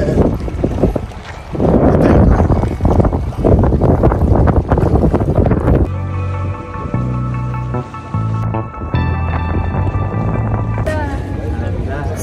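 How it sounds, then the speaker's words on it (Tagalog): Strong wind buffeting the microphone beside Lake Como, roaring loud and continuous for the first half, then giving way to steady boat-engine drone and music-like tones. "Kasi mahangin pa siya guys."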